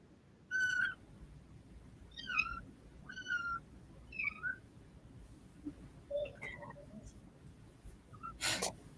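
Three-week-old foster kitten squeaking in a series of short, high, chirpy cries, about six of them spaced irregularly, close and fairly clear over quiet room noise.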